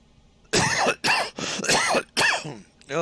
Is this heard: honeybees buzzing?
no